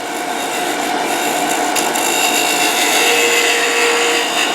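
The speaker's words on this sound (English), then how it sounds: "my tool here, it's a round nose scraper, but it's got this flat on it" Round nose scraper with a flat ground on it cutting wood on a lathe while turning a ball box, a steady close scraping rasp over the motor hum that runs unbroken throughout.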